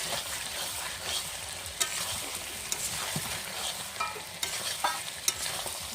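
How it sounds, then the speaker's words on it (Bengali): A spoon stirs chicken curry with potatoes in a pan over low sizzling oil, scraping the bottom with intermittent sharp clinks over a steady fry, no voices. "এখন নেড়ে নেবো বেশি করে, না নাড়লে লেগে যাবে নিচায়"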